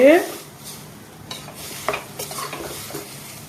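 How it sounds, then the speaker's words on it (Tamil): Spiced potato curry for poori is stirred in a pan, with soft scraping strokes and light clatter close up, a brief tonal squeak at the start and a faint sizzle underneath. "நல்லா கிண்டி விடணும் பொடி எல்லாத்தையுமே நல்லா கிண்டி விட்டுட்டு"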